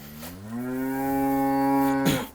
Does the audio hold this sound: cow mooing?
yes